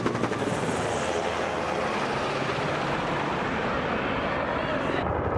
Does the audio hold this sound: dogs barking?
no